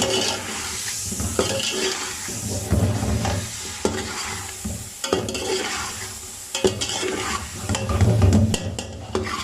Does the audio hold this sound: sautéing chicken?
yes